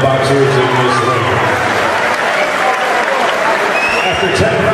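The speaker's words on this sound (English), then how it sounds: "let's have a big round of applause for both of the boxers in this ring" The crowd at a professional boxing match applauds the two boxers after ten rounds, a loud steady roar of clapping and cheering mixed with crowd noise and talk.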